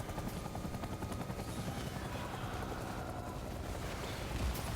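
A helicopter in the video game Death Stranding: a steady low rotor thrum with rapid chopping pulses and wind-like rush, continuous and fairly faint, with no talk.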